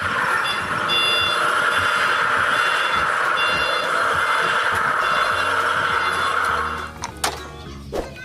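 Toy forklift emitting repeated electronic reversing beeps, a steady insistent tone pattern sounding close for about seven seconds before stopping, followed by a few clunks of handling.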